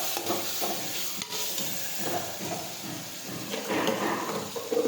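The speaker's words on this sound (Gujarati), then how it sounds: "હવે આપણે બધા મસાલા છે તે મિક્સ કરી દઈશું" Spices including cumin and turmeric stirred in a hot pan for a Gujarati cluster-bean curry, giving soft irregular scraping strokes over a faint sizzle, close and quiet.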